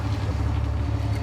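An engine running steadily and loudly after being fired up, a continuous low rumble close by with no talk over it.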